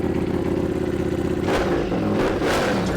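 A motorcycle with an SC Project exhaust and intake idles with a rough, throaty rumble, then blips the throttle into two loud, raspy revs, close up and alone.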